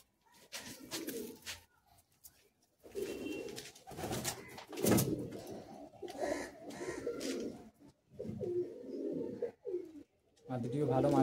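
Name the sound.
Madras pigeons, breeding pair being handled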